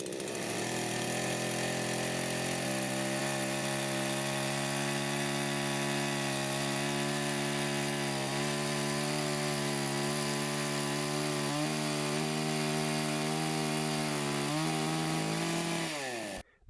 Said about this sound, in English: but the chain saws well. The shavings are large. You can feel that the chain is cutting wood.